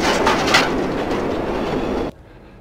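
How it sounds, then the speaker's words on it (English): A train rumbles past a home near the tracks in Chicago with a loud, close roar and rhythmic clatter of rail cars, then cuts off abruptly, leaving faint background hum. "How often does a train go by?"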